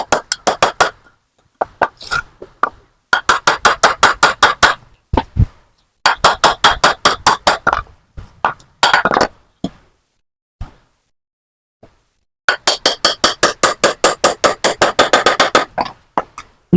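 Hammer driving nails into wood while building a DIY stand for an LPG gas tank, with rapid bursts of loud, sharp, close blows in runs of many strikes separated by pauses.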